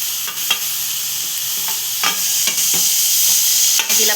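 Washed ivy gourd and bean vegetables tipped into a hot pan and stirred, loud close sizzling and frying with repeated scraping stirs of a spoon against the pan.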